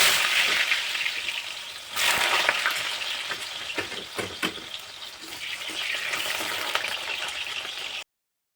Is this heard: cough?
no